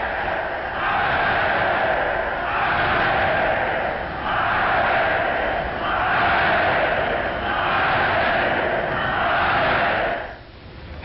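A large crowd cheers at a 1940s European rally, the roar surging in four or five broad waves before dropping away near the end, loud and narrow in tone like an old film soundtrack.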